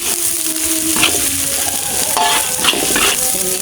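Close, continuous sizzling of chicken with galangal frying in a pan over low heat, with scraping stirs of a utensil, no voices.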